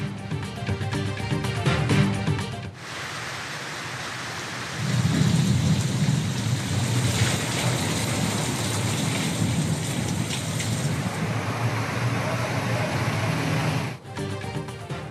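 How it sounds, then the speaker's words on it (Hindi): Heavy rain pours down during a thunderstorm in Punjab, a dense, steady hiss of downpour with low rumbling thunder swelling midway, loud and continuous with no voices. "पंजाब के मुख्तलिफ शहरों में बारिश, गर्मी का जोर टूट गया।"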